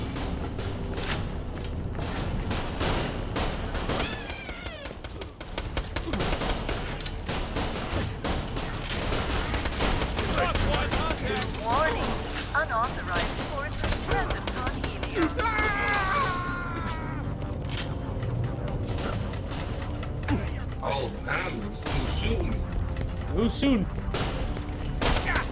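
A shotgun fires repeatedly in Borderlands: The Pre-Sequel, with heavy blasts and clanking mechanisms running steadily through a loud, busy firefight.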